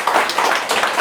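A brief burst of applause fills a room at a forum meeting in Sejong as the audience claps to approve the chosen discussion topics.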